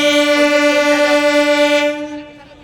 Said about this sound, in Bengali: ওই যে ট্রেনটা যাচ্ছে ওটা হচ্ছে চন্দনপুর লোকাল